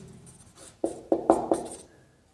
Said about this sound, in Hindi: यहां लिखते हैं बेनिफिट्स